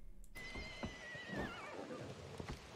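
A horse in the PUBG video game whinnies loudly with a long, wavering neigh over steady game ambience, followed by faint hoof clops.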